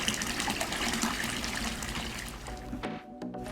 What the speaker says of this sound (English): Water flow's been restored.